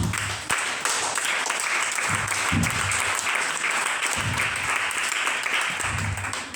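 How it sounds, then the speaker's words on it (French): A church congregation applauds steadily throughout, with rhythmic clapping and bursts of cheering voices during a French-language worship service. "Acclame Jésus."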